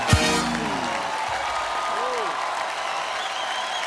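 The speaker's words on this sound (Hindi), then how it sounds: "फिर एक बार जोरदार तालियां हो जाए" A television studio audience applauds for a singer, a sustained wash of clapping that follows a short vocal burst at the start, with faint voices over the top.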